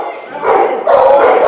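Boerboel and Rhodesian Ridgeback protection dogs bark loudly and close during a home-invasion protection drill, in an overlapping frantic stream with whimpering yips mixed in.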